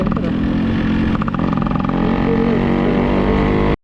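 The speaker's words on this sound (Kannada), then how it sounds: "ತುಂಬ ಖುಷಿ ಆಯ್ತು ನಿಮ್ಮ ಬೈಕ್ ಓಡಿಸಿ" A 1990s Yamaha RX135 motorcycle engine runs loud and close, a steady throbbing drone that holds throughout and then cuts off abruptly at the end.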